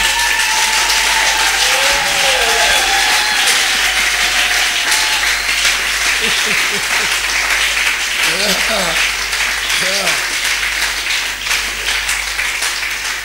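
Church audience at a French and Portuguese gospel service breaks into loud, sustained applause, dense and continuous, with scattered voices and cheers rising above the clapping.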